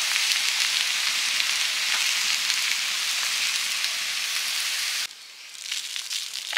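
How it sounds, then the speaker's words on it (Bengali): Taro pieces frying in hot oil tempered with black cumin and chilli, a loud dense continuous sizzle close up that suddenly drops in level near the end, then rises again gently. "কচুগুলো ভাজা করতে দিলাম, তেলে ওই কালো জিরা লঙ্কা ফোড়ন দিয়ে"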